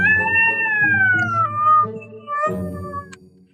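A cat gives a long, drawn-out meow that slides downward in pitch, then a shorter second meow follows. Both are close and clear with nothing else around them.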